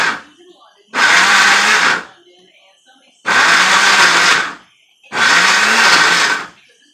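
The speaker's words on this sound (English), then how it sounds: "just put it on the blender and do a slow pulse" A blender pulsing salsa of tomatoes, garlic, peppers and onions whirs in three short, loud pulses, each about a second long, with brief quiet gaps between them.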